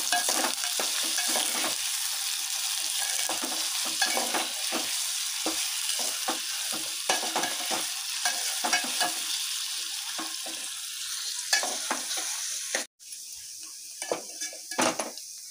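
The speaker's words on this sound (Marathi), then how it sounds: "आता मी त्यात घालत आहे हा बारीक चिरलेला कांदा, गॅस मंदच ठेवा।" Finely chopped onion sizzles steadily in a pan over a low flame, with frequent scraping stirs of a spoon against the metal and a brief clatter near the end.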